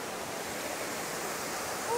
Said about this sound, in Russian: А, ну вот это, получается, был 3-й водопад.